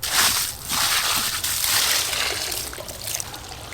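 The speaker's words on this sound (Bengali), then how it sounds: "এক বালতি জল তুলো।" A bucket is dipped into a village pond and water sloshes and trickles as it is scooped up, close and continuous.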